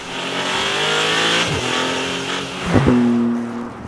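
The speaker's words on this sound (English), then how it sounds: "the mighty twin-turbo 3-litre V6 Nettuno engine pushing it along" A Maserati GT2 Stradale's twin-turbo 3-litre V6 engine revs and accelerates loudly nearby, pitch climbing through the gears with a sharp shift and renewed surge.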